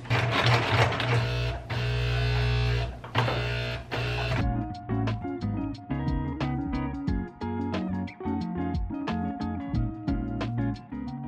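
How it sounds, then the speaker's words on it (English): A Kenmore Mini Ultra sewing machine stitching a beret, opening with a loud continuous motor drone, then shifting to rapid, uneven mechanical clicking of stitches, close and clear with no talk. "She is the Kenmore Mini Ultra Sewing Machine."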